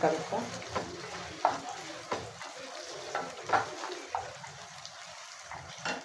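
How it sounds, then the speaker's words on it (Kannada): Chopped onions frying in a pan, a steady close sizzle broken by repeated scraping stirs at a loose rhythm. "ಇದೆಲ್ಲ ಫ್ರೈ ಆಗಲಿ"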